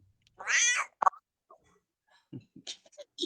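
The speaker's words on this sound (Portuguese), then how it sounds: "Isso é um gato?" A cat lets out a clear, drawn-out meow up close, followed by a few shorter, softer cat sounds and small noises in an otherwise quiet room.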